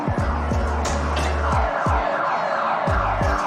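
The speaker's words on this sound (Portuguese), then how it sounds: "O metrô está cheio de criminosos, ouçam as sirenes." Emergency vehicle sirens sound loud and continuous on a Caracas street, a steady wailing with repeated low thuds and no talking over it.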